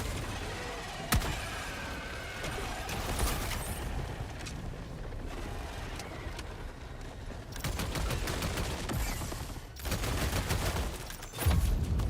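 Heavy gunfire in Helldivers 2 while weapons from a new update are tested: dense volleys and rapid shots in loud, uneven bursts with a sharp crack near the start and renewed intense firing toward the end, no talk.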